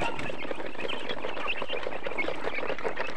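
Chickens about one and a half months old on a poultry farm cluck and chirp together in a dense, continuous flock chatter, close and steady with no talk over it.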